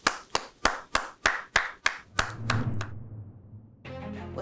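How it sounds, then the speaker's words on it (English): Nine crisp, evenly spaced claps ring out close by, then fade into a faint low rumble during a virtual 2020 commencement for Cal Poly Pomona's College of Environmental Design. "I ask all the graduates to give one more big cheer"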